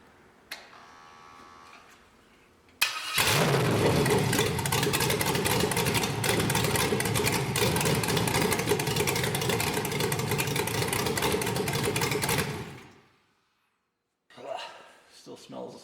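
A 5.3L LS truck engine on a MegaSquirt 2 controller fires up abruptly and settles into a loud, steady idle for about ten seconds, then cuts off; faint voices precede and follow the running engine.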